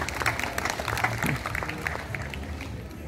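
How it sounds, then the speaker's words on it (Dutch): Crowd in a festival tent at a village kermis parade applauds the youth members who help build the floats, dense clapping with a few voices mixed in, steady then tapering slightly. "Dus een heel groot applaus voor al die jeugdleden die aan het meebouwen zijn en meedoen."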